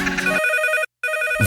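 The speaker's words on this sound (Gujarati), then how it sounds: "ફોન આવ્યો" A telephone rings in a radio studio during a comedy call-in show, loud electronic ring tones in two bursts separated by a short silent gap, with a brief noise at the end.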